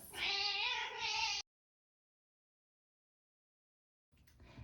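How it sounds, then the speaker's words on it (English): A house cat lets out a long, loud meow up close, then falls silent before a second, quieter meow begins at the end. "Kitty Cat has decided to join us."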